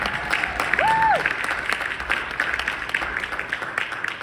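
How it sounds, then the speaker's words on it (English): An audience at a brain-computer interface talk applauds the opening moderator, a dense, steady wash of clapping with crowd murmur and a brief whistle near the start. "I want us to give a huge round of applause for our opening moderator, Susan Sly."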